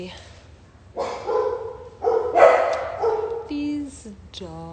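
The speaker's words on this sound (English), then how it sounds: "What are you barking at?" Dogs bark in short bursts at close range, with several loud barks and a few high whimpering yips, while people talk over and between them.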